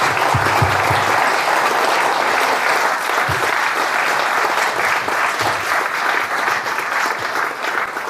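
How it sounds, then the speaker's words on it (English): Sustained applause from a crowd at an America 250th anniversary celebration in Forward Township, Pennsylvania, dense steady clapping filling the whole stretch without pause. "Another big round of applause"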